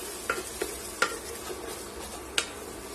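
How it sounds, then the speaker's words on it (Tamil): Grated tomato with ginger garlic paste sautéing over a low flame for egg kurma, a steady soft sizzle broken by a few light stirring scrapes of a spoon against the pan, with no talking. "லோ ஃப்ளேம்ல வச்சு இதை வந்துட்டு பொறுமையா வதக்கிக்கோங்க."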